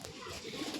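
A pigeon coos faintly on a farmhouse terrace, a soft, low, rolling call in quiet surroundings.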